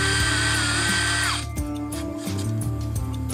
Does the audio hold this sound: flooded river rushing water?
no